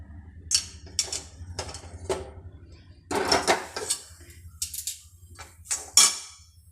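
A cooking pan is lifted off one stove and set down on another, giving a series of close metallic clanks, scrapes and knocks in irregular bursts against a quiet kitchen background.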